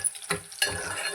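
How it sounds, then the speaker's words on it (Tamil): Onions and garlic sauté in a pan for a spicy tamarind curry with balloon-vine greens, a brief close sizzle with two quick stirring scrapes. "இப்போது வெங்காயத்தையும் சேர்த்து நல்லா வதக்கிக்கணும்."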